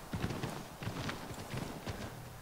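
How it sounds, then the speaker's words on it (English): Horse hooves walking in the video game Assassin's Creed 3, with an irregular clip-clop of repeated hoofbeats at a steady walking pace, close and clear with no speech. "But now we're walking, we're on horse."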